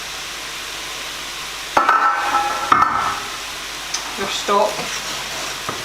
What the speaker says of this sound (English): you're basically just frying this till it's cooked